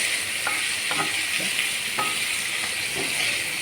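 Onions frying in a pan for a buttermilk curry, giving a steady close sizzle with a few soft stirring knocks scattered through, no talking.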